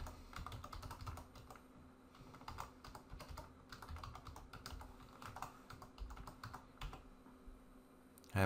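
Someone types a password on a computer keyboard, rapid uneven key clicks continuing close and steady throughout, with no talking.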